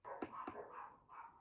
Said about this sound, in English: You can hear some feral fucking dog barking out the back.